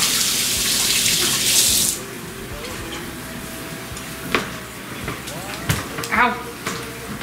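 Cold tap water runs for the first two seconds as a steady broadband hiss, then gives way to quieter clattering and small splashes in a home kitchen where a cheesy bacon ranch cavatappi meal is being cooked.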